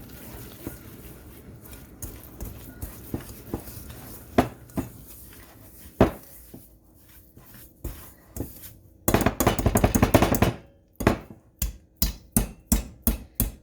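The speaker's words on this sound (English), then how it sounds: "I'm just going to start whisking this together" Whisking ingredients for toffee bars in a bowl, heard as sparse utensil taps and clinks against the bowl, then a fast dense burst of rapid clattering strokes, followed by a steady series of sharp, evenly spaced knocks.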